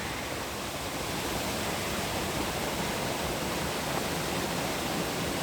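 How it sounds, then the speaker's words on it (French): A waterfall in a Patagonian nature park pours with a dense, constant broadband rush, steady and fairly loud throughout, with no voices. "on arrive déjà à la première cascade."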